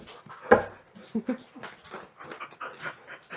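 A dog pants rapidly and whimpers up close, with short yips and breathy bursts, while a person talks softly nearby.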